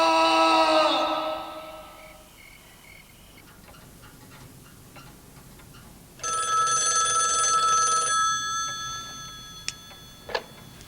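A telephone rings in two long electronic trills separated by a pause, loud and close, followed by a couple of faint clicks.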